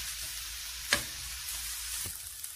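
Tomatoes fry in a pan with salt, pepper and thyme, giving a steady close sizzle with a couple of sharp stirring clicks and no voices.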